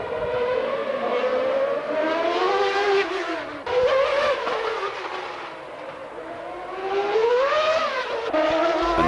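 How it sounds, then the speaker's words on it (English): Formula One cars at the 1994 Adelaide Grand Prix scream past one after another on the East Terrace street circuit, high-revving engines rising and falling in pitch as they pass near and loud, with no talk over them. "there's the current leader of the race and the current leader of the Formula One Championship, Michael Schumacher"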